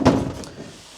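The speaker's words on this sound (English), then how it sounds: "all you need to do is swing that around, and then you have got a shower door there" Shower door in a 2016 Autosleeper Bourton motorhome swung shut, giving a single close, loud thunk at the start that quickly dies away into quiet.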